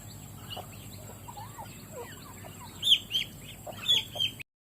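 Several chickens cluck and murmur close by in a home garden in Laos, with a few sharper, louder squawks near the end over a quiet outdoor background.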